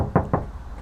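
Two quick knuckle knocks on the rear door of a 2024 Toyota Land Cruiser Prado, close and dull, with a hollow thud to each.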